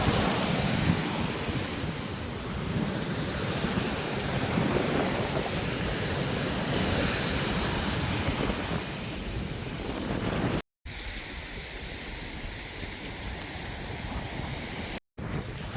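Sea surf rolling onto the shore at a coastal temple site, a steady broad wash of breaking waves mixed with wind buffeting the microphone, continuous and fairly loud, with two brief cuts near the end and no talking.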